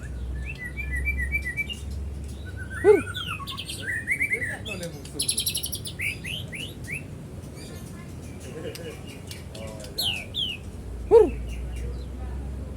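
A white-rumped shama, an old bird, sings in bursts of varied whistles, trills and sharp chirps, with two loud calls standing out, over steady low background hum and other faint bird twittering.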